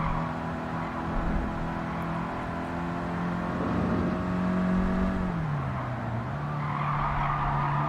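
A 50-plus-year-old Citroen in Gran Turismo 7 at the Nürburgring hums with a steady engine drone that rises and falls as it revs, with tire squeal and skidding through a corner, loud and continuous.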